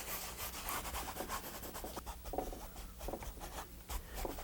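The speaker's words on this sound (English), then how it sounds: "why don't I use a cloth? Here I am scratching around, making all those funny shapes" Cloth rubbing and smoothing glaze onto a painting surface, a soft continuous scrubbing and swishing at low level, alone with no talk.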